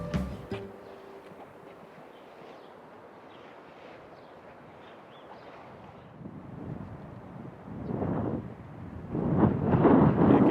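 Wind blowing across the microphone on a windy archipelago island, quiet at first and then rising into strong buffeting gusts toward the end.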